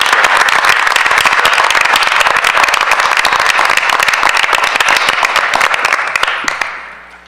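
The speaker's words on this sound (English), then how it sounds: "let's give Alma a huge round of applause on the job well done." An audience at a school board of education meeting claps loudly and steadily for several seconds, a dense wash of applause that tapers off at the end.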